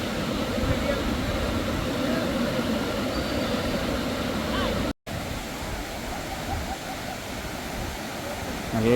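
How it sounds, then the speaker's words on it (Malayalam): Water of Uppili Falls pours and splashes over rocks in a steady, dense roar that fills the whole scene, broken only by a brief dropout midway. "പാറക്കെട്ടുകൾ ഇങ്ങനെ ഉണ്ടായതുകൊണ്ട് അതിൻ്റെ അടിയിൽ കൂടി ഇങ്ങനെ വെള്ളം ഇങ്ങനെ ചാടി ചാടിയാണ് ഒഴുകണേ"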